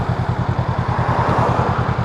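A Honda Rebel 500 engine thrums close and loud as the motorcycle pulls away from a stop in first gear, a fast even pulse of low firing beats running throughout.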